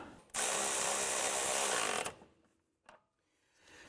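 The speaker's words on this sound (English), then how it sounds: "Let's go ahead and tighten down that nut." Upper ball joint castle nut on an Acura TL front suspension run down with a power tool, a loud close whirring burst of about two seconds, then a short clank and a faint rattle.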